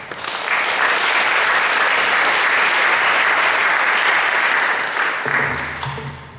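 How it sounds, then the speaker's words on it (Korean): A church youth-service congregation applauds a guest speaker as he comes forward, a steady, dense wash of clapping held for several seconds before tapering off, with a faint voice starting at the end. "박수로 모시도록 하겠습니다."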